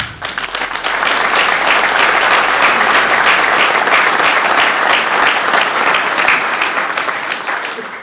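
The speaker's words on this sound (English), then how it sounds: "Let's give them a round of applause" A crowd at the Texas BMX Hall of Fame ceremony in San Antonio breaks into loud, sustained applause, dense clapping swelling quickly and holding steady before easing off at the end.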